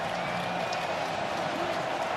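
A college football stadium crowd roars in a steady, dense wash of cheering and applause at Western Michigan versus Wisconsin, heard from a distance under a commentator's voice.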